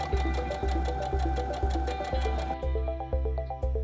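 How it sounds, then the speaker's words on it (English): Sewing machine stitching fabric for a rat hammock, a rapid regular mechanical chatter of needle strokes at close range, slowing to a steadier knock partway through. "So you're just gonna sew all the way around on all four sides."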